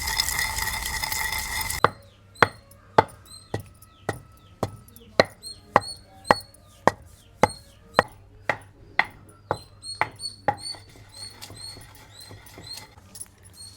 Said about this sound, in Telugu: ఇంకా ఫుల్గా పౌడర్ చేసుకోవడమే దంపేసుకొని.